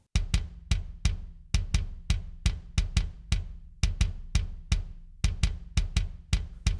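A kick drum blended from an original track plus mono and stereo samples thumps alone in a steady, punchy beat, each hit loud and close with a short decay.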